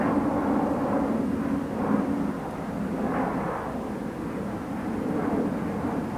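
Jet aircraft passing overhead, a broad, steady roar that swells and ebbs slightly, moderately loud and distant with no voices.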